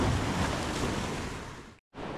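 Sea waves rolling onto Kondura beach near Vengurla on the Konkan coast at sunset, a broad continuous roar of surf with wind, heard close and loud with a brief cutout near the end.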